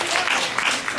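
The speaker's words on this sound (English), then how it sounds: "now we clap for Tobin, so let's hear it for Eric" A small audience claps for Eric at a Race Talks gathering in Portland, Oregon, in a short, steady burst of hand-clapping that lasts about a second.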